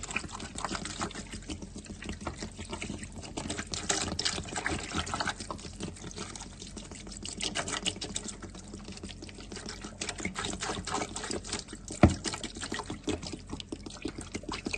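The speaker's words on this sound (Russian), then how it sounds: "И добавляем чистой фильтрованной воды. Заливаем буквально так, чтобы покрыть нашу утку." Filtered water pours from a container over raw duck pieces in a bowl, a soft continuous trickle and splash close by, with faint intermittent clinks and no talking.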